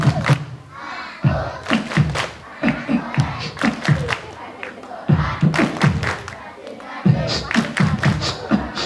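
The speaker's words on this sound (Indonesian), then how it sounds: "tepuk anak soleh" Elementary school children at a religious study gathering clap and chant together in a rhythmic pattern, bursts of group voices and claps repeating in short phrases, loud and close.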